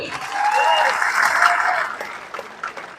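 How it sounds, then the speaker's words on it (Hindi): Applause from an audience at a friends' meet program in Delhi, swelling into a steady burst of many hands for about two seconds before tapering into scattered claps, with a faint voice or tone under it. "एक बार उनके लिए जोरदार तालियां हो जाए"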